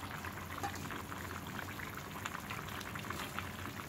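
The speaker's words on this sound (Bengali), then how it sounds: "আমি ঝোলটা আরও কমিয়ে ফেলবো" Potato and bitter gourd curry gravy bubbles in a pan, a faint, dense, even simmer of small popping bubbles throughout with no talking.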